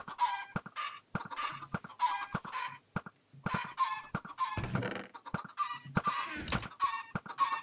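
Minecraft chickens clucking in repeated short bursts, several birds overlapping in a steady, busy pattern at moderate volume, with a few game sounds mixed in and no talking.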